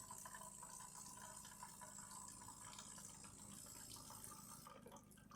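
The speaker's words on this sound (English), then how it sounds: "we're going to drain it all out through the hot water tap" Water runs out of the hot water tap of a DeLonghi Magnifica Cappuccino S espresso machine in a steady, faint trickle and splash, with no talking.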